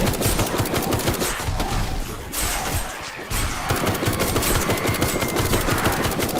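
Rapid automatic gunfire in the video game Night of the Dead rattles almost continuously in dense bursts, with a short lull in the middle before the shooting resumes, loud and close.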